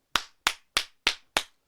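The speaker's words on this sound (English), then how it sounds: "give a hand clap of praise" Five crisp, single hand claps ring out alone at an even, deliberate pace, each sharp and close with a quick decay.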